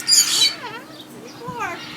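Tropical pet birds call with a loud shrill squawk followed by swooping whistled chirps and chatter, close by, heard alone without human talk.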